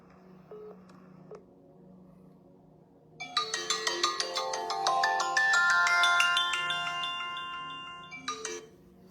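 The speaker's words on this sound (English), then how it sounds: "Can you hang up your phone?" A phone ringtone plays close by, opening with a few short tones and then a bright, bouncy melodic jingle that rises and holds for several seconds before cutting off, with no talking over it.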